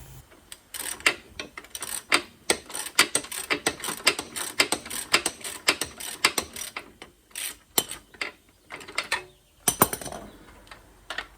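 A hand wrench ratchets on the bottom bolt of a front shock absorber on a 1956 Chevy truck, rapid clicking bursts in irregular runs with short pauses, close and alone.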